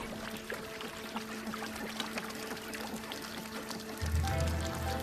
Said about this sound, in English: this freshwater shower allows the rockhoppers to wash away salt and dirt from their feathers